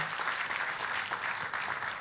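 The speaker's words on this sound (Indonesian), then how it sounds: "kalau mau tepuk tangan yang paling meriah" A church congregation bursts into loud, continuous applause, a dense wash of many hands clapping together without pause.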